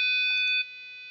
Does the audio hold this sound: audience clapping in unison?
no